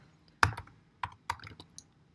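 Typing on a computer keyboard while a file name is entered, a few sharp, close keystrokes spaced out irregularly with short pauses between them.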